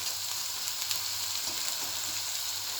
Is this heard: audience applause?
no